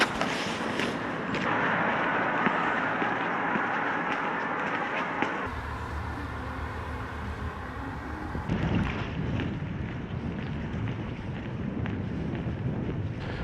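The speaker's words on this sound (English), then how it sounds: "That's my boat arriving" Low rumbling Caledonian MacBrayne ferry engine at Rothesay pier with wind buffeting and water wash, steady and fairly loud, shifting in tone partway through as the ferry arrives.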